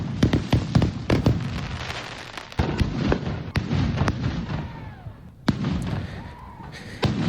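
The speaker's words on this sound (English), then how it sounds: "watching people lighting off fireworks because I was just laughing at what was going on" Fireworks going off at a Fourth of July beach celebration: repeated sharp cracks and pops, some near and loud, others more distant, with crackling between bursts.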